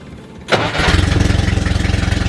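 A Mercury Monarch fitted with an LS engine turns over and fires up after a half-second lull, then settles into a loud, lumpy, tractor-like idle with a steady pulsing chug.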